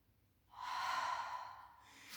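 One breath, drawn in or let out, rises and fades over about a second and a half during a Pilates exercise with a ball. It is soft and close, with no talking.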